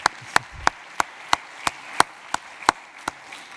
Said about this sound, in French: on peut applaudir déjà Pierre